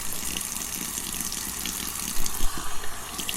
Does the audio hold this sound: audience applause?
no